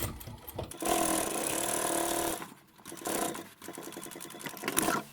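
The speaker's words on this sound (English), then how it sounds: "and I'll go and top stitch" A sewing machine top-stitches a zippered laptop handbag made from upholstery and vinyl swatches, running in fast steady bursts with a brief pause midway, close and clear.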